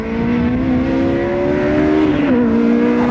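An 8th-generation Honda Civic Si with a Full Race exhaust accelerates hard and close, its loud raspy engine note climbing steadily through the revs, dipping briefly near the end, then continuing to pull.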